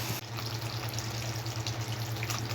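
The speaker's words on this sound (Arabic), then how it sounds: "دلوقتي انا هنزل عليها بكوبايه ميه" A glass of water poured into simmering moussaka sauce with vinegar and garlic, a steady watery rush over a faint low hum, continuous and close.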